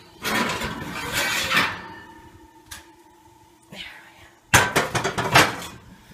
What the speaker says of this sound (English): it's time to get the pan out of the oven